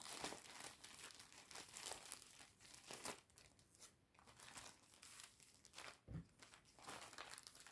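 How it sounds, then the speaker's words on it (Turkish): Plastic crinkling and rustling in bursts, close up and fairly quiet, with a sharper crackle near the end; no voices. "Daha sonra poşetime yerleştiriyorum."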